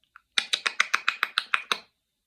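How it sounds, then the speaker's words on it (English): A quick run of about ten sharp clicks in an even rhythm, crisp and close, preceded by a couple of faint ticks, then silence. "It was that clicking noise again."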